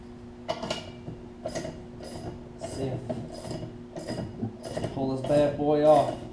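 A two-jaw puller draws the camshaft off a Briggs Intek engine on a Snapper rear-engine rider, giving repeated close metallic clicks and ratcheting creaks in a steady rhythm, building to louder scraping near the end.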